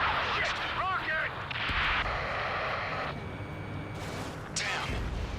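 Rocket launches and explosions in the Ace Combat 7 jet combat game, loud booming blasts and whooshing bursts over a dense, continuous battle roar, with a sharp hissing rocket streak near the end.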